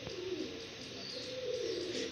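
Pigeons cooing in a home loft: a steady, close, low cooing that repeats across the whole stretch over a soft background hiss.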